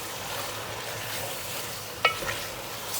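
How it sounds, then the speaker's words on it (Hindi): About a kilo of chicken mixed with spices fries in a pan, giving a soft, steady sizzle with one short utensil tap partway through. "इसको थोड़ा सा फ्राई करेंगे इस मसालों में"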